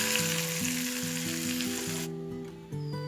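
Hot tempering with chilli powder poured into a kovakka (ivy gourd) curry made in fish-curry style, crackling and sizzling loudly and steadily for about two seconds before the hiss drops sharply, with light stirring and background music throughout.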